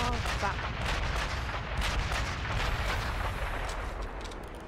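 Sniper rifle fire in Sniper Elite V2, shooting from building to building across a bay at the Tiergarten Flak Tower, booms loudly in repeated heavy reports with rolling echoes, with voices talking faintly underneath.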